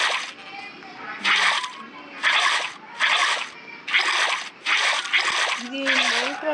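Water poured repeatedly in Minecraft produces a series of about seven regular whooshing splash bursts, evenly spaced and fairly close, while a voice talks faintly underneath.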